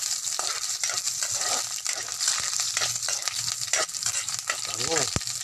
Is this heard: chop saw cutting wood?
no